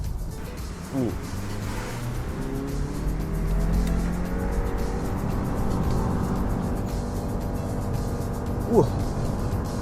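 A Subaru SUV accelerates in drive, its engine note rising steadily in a smooth continuous pull heard from inside the cabin, with someone talking briefly over the hum.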